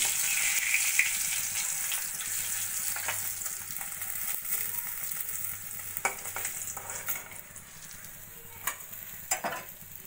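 Sarputi fish frying in hot oil in a wok, a steady close sizzle with occasional sharper pops and spatters, no talk.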